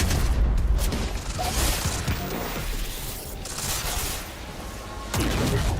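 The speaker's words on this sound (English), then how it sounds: "I can't stick around for those explosions, not even a little bit." Explosions and gunfire in the Quantum Break video game, a dense, continuous roar of booms and crackling blasts filling the whole stretch, loud and close, with a heavier burst near the end.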